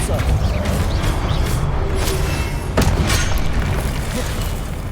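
Depulso force spell cast in Hogwarts Legacy, a dense booming magical blast with thumping bursts and a sharp impact near the middle, under steady game noise and faint voice.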